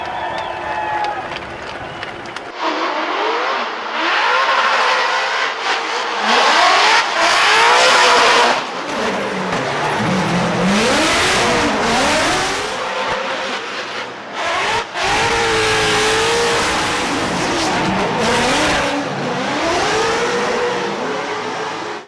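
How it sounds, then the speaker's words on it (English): A Lucas Oil Ford Mustang race car on Falcon tires revs and runs hard, the engine note rising and falling through repeated loud pulls with tire noise, a voice talking over it. "He's piling that Falcon tires, a Lucas Oil Ford Mustang, lucky number 13, JTP Justin Pawlak."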